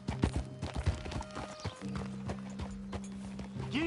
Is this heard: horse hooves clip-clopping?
yes